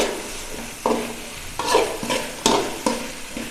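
Vegetables sauté in a pan with a soft sizzle, broken by several sharp stirring scrapes at irregular intervals.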